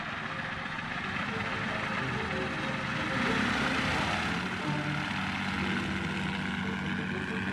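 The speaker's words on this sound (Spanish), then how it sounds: "cuyo puerto vemos aquí sobrevolar a un hidroavión británico" A British propeller seaplane drones overhead above a harbour, its engine swelling to a peak midway and then easing off, with a voice speaking over it.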